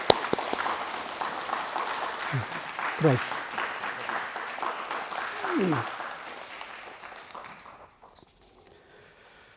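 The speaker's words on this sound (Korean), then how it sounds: "다시 한번 박수로 축하해 주시겠습니다." Korean congregation in a Berlin church applauding after a baptism during Sunday worship, dense clapping that gradually thins and dies away near the end, with brief spoken words over it and a moment of near silence to close.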